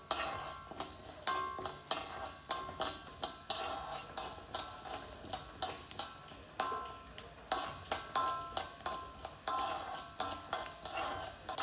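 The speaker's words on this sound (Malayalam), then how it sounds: "ഇതാ ഉലുവ ചുവന്ന് കഴിഞ്ഞാൽ പൊട്ടുന്നുണ്ട്." Fenugreek seeds dry-roast in a pan on a stove, with a steady rhythm of close spoon scrapes and light crackling as they turn red and start to pop.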